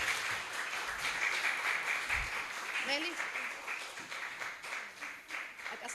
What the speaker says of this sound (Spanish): Le damos un aplauso por su participación en el primer foro